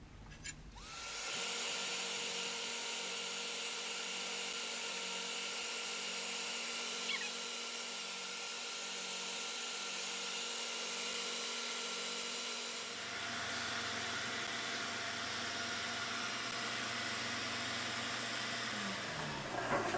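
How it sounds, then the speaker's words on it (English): A power tool steadily shaves Hawaiian koa wood earring pieces with a continuous high, whining drone. It runs for about twenty seconds, and its tone drops and roughens partway through as the bit bites harder into the wood. "you need to shave down all of these until they actually fit"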